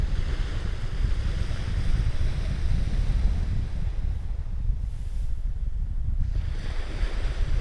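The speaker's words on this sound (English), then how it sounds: "Oh, just listen to that sea." Sea waves wash onto a beach at the water's edge near low tide, a steady, loud roar of surf mixed with gusty wind buffeting the microphone, with no talking.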